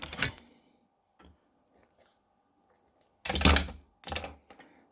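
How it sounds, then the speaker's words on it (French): Scissors snip sewing thread at close range, two distinct crisp cutting bursts with faint small handling clicks between them in a quiet room. "Du fil de couture, on coupe en bout."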